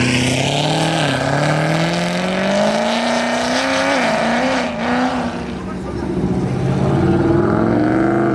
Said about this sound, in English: The C7 just sent it in front of the cop.